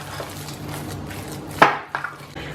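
Minced meat is mixed in a bowl in a home kitchen, with soft squelching and a couple of sharp clinks of utensil against the dish, close by.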